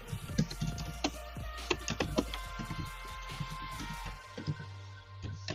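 Close, rapid typing on a computer keyboard, with irregular bursts of sharp key clicks and heavier spacebar thumps, pausing briefly before a final few taps.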